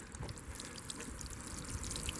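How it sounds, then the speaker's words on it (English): Water poured from a can onto fertilizer in a radish flower box, a soft continuous trickle and splash on soil, faint and steady with no talking. "And we're going to water this in"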